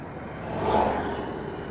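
A motorcycle riding along the Kalyani highway, with a steady engine and wind roar that swells slightly midway and stays continuous.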